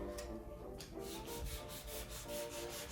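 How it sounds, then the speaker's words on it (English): Steady back-and-forth scraping of sandpaper worked by hand over the carved details of Art Deco wood furniture, close up and continuous, with a regular rhythmic rasp. "There's a good amount of hand sanding with the details here."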